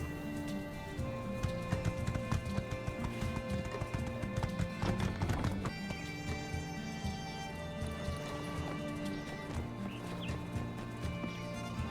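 Hooves of the riding mount Yuki clip-clop steadily in My Time at Sandrock, a quick rhythmic trot with an occasional whinny, heard close over layered game music and ambience.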